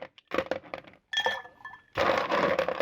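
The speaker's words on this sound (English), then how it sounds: "We will put plenty of ice in there." Ice cubes are dropped into a cocktail mixing glass, with a quick series of clinks and rattles, then a brief glassy ring and another burst of tumbling, clattering ice.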